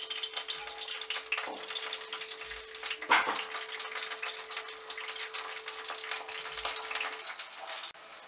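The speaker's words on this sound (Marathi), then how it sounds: "तर आपण जो चिरून घेतलेला कांदा आहे तो आपण आता कढईमध्ये टाकणार आहोत." Steady sizzling and bubbling of pithla, a gram-flour curry, simmering in a kadhai as chopped onion goes in, with a constant frying hiss and a faint hum beneath.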